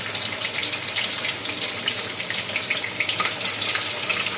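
Fish cutlets frying in a pan of hot oil, a steady close crackling sizzle that holds loud and even throughout with no voices.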